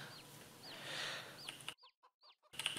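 Hens cluck in a Farming Simulator 22 farm scene, several short rising clucks repeating over a soft ambient bed, with a brief silent gap before the clucking resumes.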